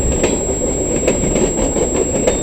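CN and BNSF freight locomotives switch cars in a rail yard, producing a steady rumbling roll with rhythmic clicks of wheels over rail joints and faint metallic squeals.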